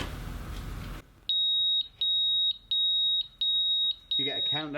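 A Pyronix Enforcer home alarm panel sounds its entry countdown as a steady series of six loud, high-pitched beeps at regular intervals, then a voice begins talking.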